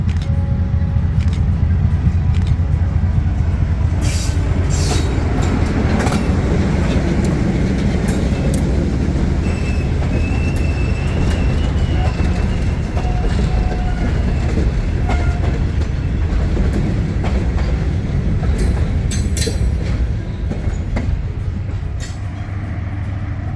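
A heritage train rumbles steadily past at close range near Rays Park Road, wheels clicking over rail joints, with occasional sharp metallic clanks over the continuous roar.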